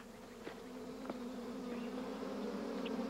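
Bees buzz steadily at a beehive, a continuous droning hum close by with a few individual insects passing nearer and louder, no voices.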